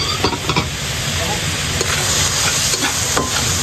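Shrimp dropped into a pan of sautéing ginger and garlic, giving a loud, steady sizzle and crackle of hot oil with brief stirring scrapes, close up and alone.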